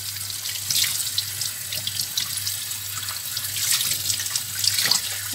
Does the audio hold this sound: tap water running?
yes